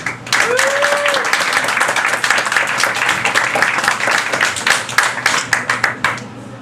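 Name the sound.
audience applause for a poet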